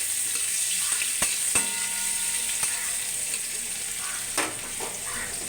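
Onion and radhuni spice sizzle and fry in hot white oil in a pan, a steady close crackle with occasional scrapes and clicks of stirring.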